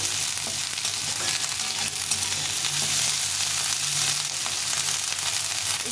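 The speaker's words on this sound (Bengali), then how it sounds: "একদম অল্প তেলে করবো আমি এটা ফুলকপিটা একটু ভেজে নেব" Thin strips of cauliflower fry in a small amount of oil, giving a steady, close, even sizzle that carries unbroken from start to finish without any voices.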